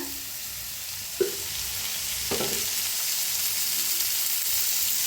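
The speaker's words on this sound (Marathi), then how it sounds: "आता थोडंसं तेल वतायचं म्हणजे लगे भाजतं या" Oil sizzles steadily in a pan as dosa chutney ingredients, including garlic, roast, with a continuous close hiss and a couple of soft knocks from stirring.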